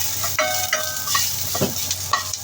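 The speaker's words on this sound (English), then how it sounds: "And then I will put the shallots and ginger. Shallots and ginger. Fry, fry, fry." Shallots and ginger fry in a hot pan with a steady, close sizzle, while a utensil stirs and scrapes through them in repeated strokes.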